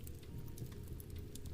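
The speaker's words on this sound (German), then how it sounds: "trommelt der Regen sein ruhiges Lied." Rain drums steadily outside. The patter is soft and continuous, with scattered drops standing out over a low, even wash.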